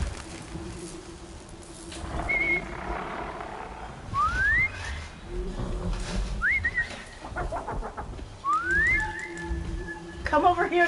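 Whistling in the video game Horizon Zero Dawn, several short rising whistle calls spread across the clip amid game sounds, with a person talking now and then.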